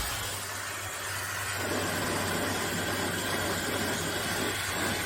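A hairdryer heating and blowing while powered by a Topbull 3000W modified sine wave inverter, a loud steady broadband whoosh with a low electrical hum and cooling fans underneath.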